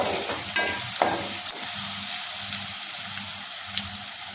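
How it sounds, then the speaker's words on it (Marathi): Asafoetida being stirred into hot frying oil for soybean bhaji, with a steady close sizzle and occasional scrapes of a spoon across the pan. "हिंग टाकलं की छानपैकी मिक्स करून घ्यायचं"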